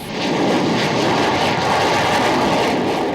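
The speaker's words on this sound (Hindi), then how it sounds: "ये ललकार है भारतीय वायुसेना की सबसे मजबूत विमान सुखोई 30 MKI की" A Sukhoi Su-30MKI fighter jet of the Indian Air Force, stationed in Arunachal Pradesh, roars with a loud, steady, continuous engine blast, with no voices.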